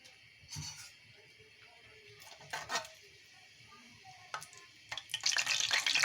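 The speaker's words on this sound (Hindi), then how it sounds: "तो खुशबू आने तक हम इसको भून लेंगे घी में" Broken green cardamom pods fry in hot ghee with a soft, low sizzle and occasional spoon scrapes, swelling into a brighter crackle at the end, quiet and close.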